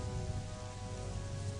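Constant hiss of rain falling in the video game Gothic, a dense even wash of droplets with a faint steady hum beneath, no voices.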